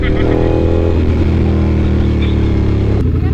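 A Ducati V4S big bike carries two people on the road, its engine droning loud and close in a steady, throaty hum that dips slightly near the end, while riders talk over it.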